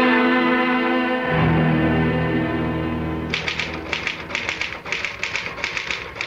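Typewriter sound effect in a radio mystery drama: a sustained musical tone fades out, then sharp, close mechanical key strikes follow in a quick, uneven rhythm, each with a slight echo.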